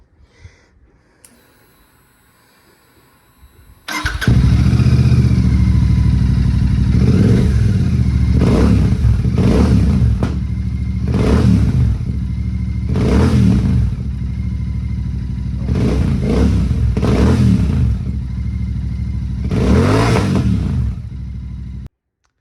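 A Royal Enfield Shotgun 650 engine starts up and revs loudly in repeated bursts, the exhaust run without baffles roaring and crackling up close with no other sounds.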